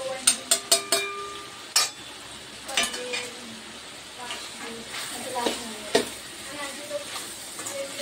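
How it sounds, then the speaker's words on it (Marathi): Spices and steamed vegetables sauté in a pan for sambar, with soft sizzling and a run of quick spoon clicks at the start, then scattered scrapes and stirring sounds, close and fairly quiet. "मसाले आपले व्यवस्थित परतून घेऊया"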